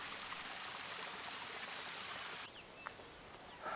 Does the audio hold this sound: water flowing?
yes